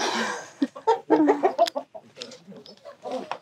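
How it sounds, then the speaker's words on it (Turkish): Several chickens cluck and murmur in short, irregular bursts close by, overlapping one another with brief pauses between calls. "burada tavuklar"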